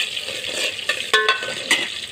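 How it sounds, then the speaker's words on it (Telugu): Green chillies fry in a pan in a close, crackling sizzle broken by sharp metallic clinks of a spatula stirring against the pan, with no one talking. "పచ్చిమిర్చి, వీటన్నిటిని కొద్దిసేపు బాగా వేగనివ్వాలి."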